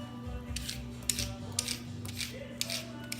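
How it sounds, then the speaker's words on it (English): Carrots are being peeled with a peeler, giving faint, quick rasping scrapes that repeat in short strokes over a low steady hum. "you're gonna start by peeling your carrots"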